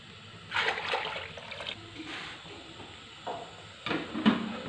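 Water pours in short bursts into a cooking pot for vegetable pulao nearby, splashing in a few separate gushes with brief pauses between them.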